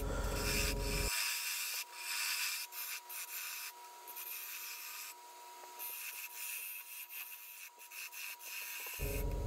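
Carbide circle cutter hollowing a glued-up wooden bowl on a lathe, a steady scraping rub that runs almost continuously with small dips, close and moderately loud, no voices.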